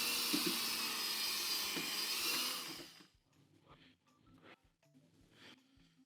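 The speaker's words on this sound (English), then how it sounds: "Now I'm using my drill and a mixer" A power drill with a mixer attachment whirs steadily for about three seconds while stirring paste, then stops, leaving quiet scraping and knocking sounds.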